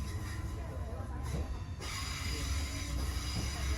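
A Dublin coast line commuter train crosses the River Liffey on its way to Dublin Connolly, giving a steady, loud, close rumble of wheels and carriages that runs unbroken throughout.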